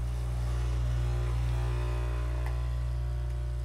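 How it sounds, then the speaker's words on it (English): A Nespresso coffee machine brews with a steady, even low hum and faint pump buzz, holding at a constant level throughout, with no voices. "I'm going to do the Nespresso now"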